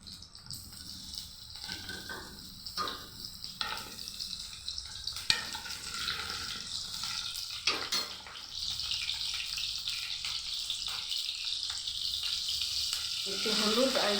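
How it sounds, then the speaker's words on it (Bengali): Potatoes frying in hot oil for veg biryani, a steady close sizzle with bubbling pops that swells and dips as pieces are moved, and a brief voice heard faintly at times. "প্রথমে আলুগুলোকে আমি ভেজে নিব"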